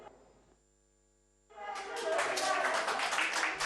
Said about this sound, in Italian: L'applauso all'arrivo delle prime dosi